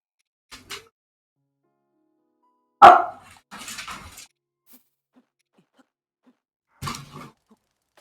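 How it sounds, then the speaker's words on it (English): A dog barks excitedly in a few separate loud, sharp bursts spread over several seconds, close by in a quiet room with silence between the outbursts. "My dog's going crazy."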